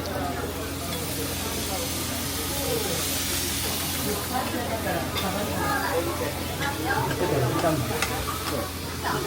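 Monja cooking on a crowded tabletop grill at an all-you-can-eat place on Tokyo's monja street, a constant hiss and sizzle with scraping under steady nearby chatter from diners.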